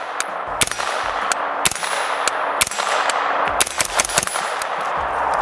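An Aero Precision AR-9 fired outdoors in a quick string of sharp, loud reports, irregularly spaced with a brief rapid cluster, each crack followed by a short metallic ring.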